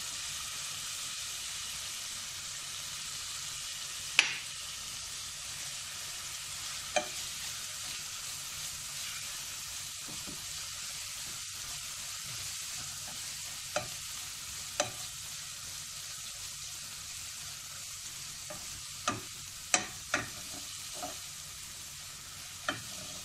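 Onion with turmeric powder sautéing for an okra curry, a steady low sizzle with sharp scraping clicks of a spoon against the pan at irregular intervals, close and fairly quiet, no voices.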